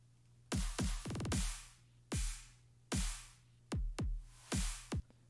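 Punchy, heavy drum hits with deep booming kicks and sharp snares, a quick roll early on, played alone without saturation or compression, with clean, unsaturated decay.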